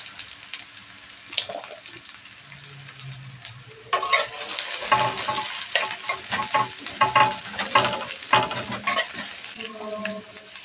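Onions frying and being stirred in a pan, close crackling sizzle with repeated scraping stirs that grow busier partway through, alone without talk.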